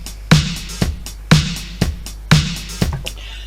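Sample pattern on a Novation Circuit Tracks playing a simple repeating beat without triplets: a punchy kick and snappy hits looping twice a second over a low hum, loud and close.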